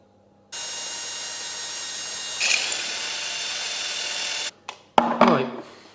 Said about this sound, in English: I'm going to mark those now, drill through, and then we're all done.